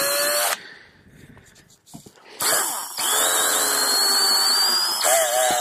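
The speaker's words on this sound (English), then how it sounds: "So I'm going to drill this really, really carefully, because I can't just go out and buy another hood." A power drill bores a hole into a snowmobile hood, whining loudly in sustained bursts with a brief quieter pause between them, then rising again in pitch as the bit cuts through.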